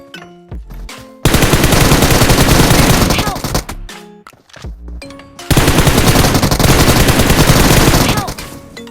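Rapid automatic gunfire from drop shots in the video game PUBG Mobile, fired in two long, dense, loud bursts separated by a short lull with a few scattered shots.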